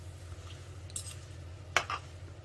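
Two forks tossing spicy stir-fry noodles in a pan give a couple of light clinks and scrapes over a steady low hum, with no talking.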